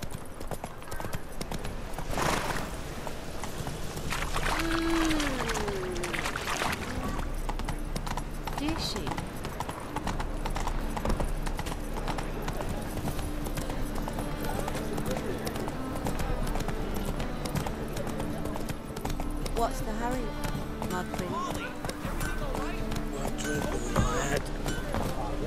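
In The Witcher 3: Wild Hunt, a horse gallops with rapid rhythmic hoofbeats throughout, accompanied by game music and effects, with a voice talking over parts of it.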